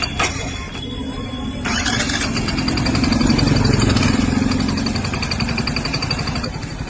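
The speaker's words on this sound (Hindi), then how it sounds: "बाइक नई होने के बाद भी कुछ ही किलोमीटर में इंजन से अजीब साउंड आना स्टार्ट हो गया है।" Hero HF Deluxe motorcycle with about 623 km on it, engine running close by with a steady mid-pitched drone and a rattly, abnormal mechanical noise riding on top, swelling slightly midway.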